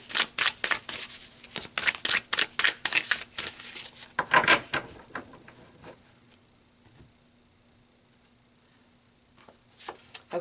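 Tarot cards are shuffled and pulled in a quiet room, a run of crisp riffling slaps and flicks that thins into a few scattered taps and a final burst of card handling.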